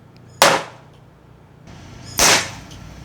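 Two loud, sharp bangs from .380 rounds fired in a small homemade launcher setup, each a sudden blast with a short decaying tail, about two seconds apart, with no one talking.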